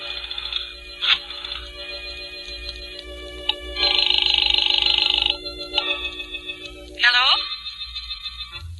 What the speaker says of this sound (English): I dialed her number.